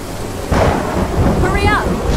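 A thunderstorm with heavy rain in the video game Eventide: Sorcerers Mirror, a loud steady downpour with a deep rumbling thunder swell and crackling rain noise throughout.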